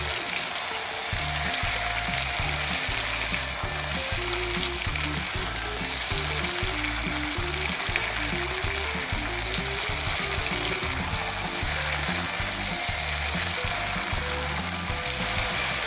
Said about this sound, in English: I'm going to add my tomatoes and I'm going to again cook this for a couple of minutes.